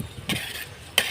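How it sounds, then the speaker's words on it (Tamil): A spoon scrapes and turns chicken biryani in a pot just after kesari colour powder is added: two short, close stirring sweeps with a faint sizzle in between. "போட்டு கிண்டி விட்டுக்கிட்டாச்சு."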